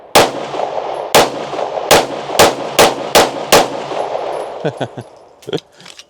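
Rapid pistol magazine dump at an outdoor trash-shooting session: seven loud, sharp shots in quick succession, then a few fainter clanks and knocks as the firing stops.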